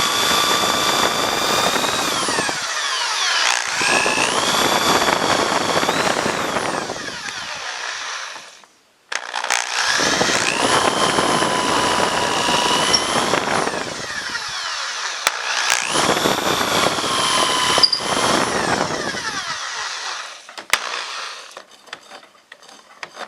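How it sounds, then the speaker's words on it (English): Corded drill with a built-in level boring a hole into wood with a Forstner bit, in three long whining bursts with brief pauses between them, close and loud, alone without talk. "the corded drill also has a level on it, which will allow me to somewhat stay level when I drill this hole"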